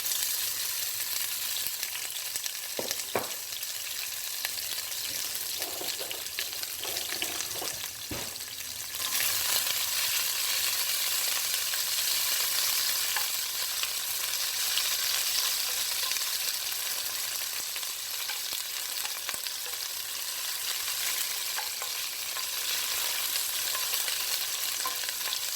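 Onions, garlic and scotch bonnet pepper fry in olive oil with a steady, broad sizzle that swells louder partway through, with a few light stirring knocks and scrapes near the start.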